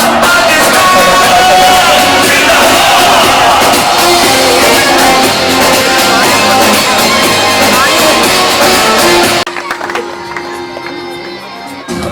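An audience at a Pakistan Independence Day ceremony held by a welfare society claps and cheers as shield awards are presented, a loud sustained crowd roar with yells that drops away sharply near the end.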